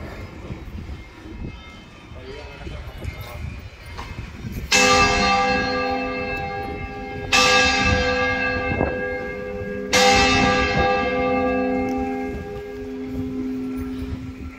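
Large church bells toll three times in slow succession, each strike ringing out with long, resonant overtones over faint background chatter, during a traditional festival in Salamanca, Spain.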